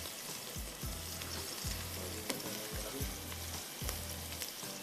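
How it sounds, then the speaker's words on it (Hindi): Fried beef added to a hot pan for a Chinese-style stir-fry, a soft continuous frying sizzle with regular low thumps and stirring noises, faint and without talk. "आप इसमें डाल दीजिए फ्राइड बीफ।"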